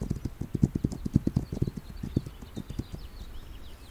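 Horse hooves clip-clop in a quick, steady rhythm in a video game, close and fairly soft, easing off toward the end.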